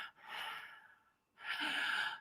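A human voice imitates breathing behind someone, producing two slow, breathy exhalations separated by a pause, close and airy, with no other sound.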